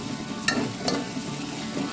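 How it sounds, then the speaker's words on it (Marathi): A spoon scrapes twice through a thick ground chicken masala for Malvani chicken rassa in a pot, two quick strokes over a soft, steady sizzle. "आणि छान पद्धतीने आपल्याला हे ढवळायचं, करपायला द्यायचं नाही"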